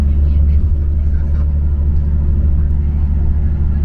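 A São Paulo city bus rumbles with a constant, heavy low-pitched engine drone heard from inside, loud and close, while people talk over it.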